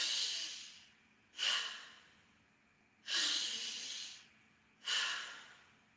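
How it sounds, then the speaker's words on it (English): Loud, forceful breaths drawn and pushed through the nose in tummo breathing, four strong rushing breaths at an even rhythm, each fading off slowly, heard up close with no talking. "It's the best to breathe through your nose loudly"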